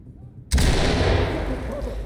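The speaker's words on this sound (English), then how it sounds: "Readying flashbang, boss." A flashbang in the tactical police shooter Ready or Not bursts with a sudden loud bang. Its harsh, ringing roar then holds for well over a second and fades only slightly.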